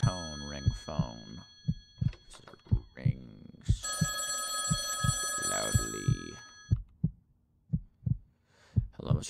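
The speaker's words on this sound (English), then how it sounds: "Hello, 1999 ringtone. Not ringtone, ring phone." An old telephone rings inside the horror game Echo, its bright bell sounding in repeated bursts over a steady pulsing heartbeat-like thump, while someone talks over it.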